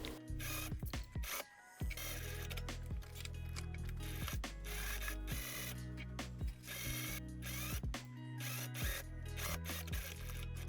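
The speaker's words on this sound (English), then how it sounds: "tilt your piece under the sewing machine with the needle in the piece, sew around the pocket until you reach this needle right here" Sewing machine stitching around a pocket on a dress or coat: loud, rapid mechanical whirring runs in bursts, broken by short pauses and clicks as the piece is pivoted under the needle.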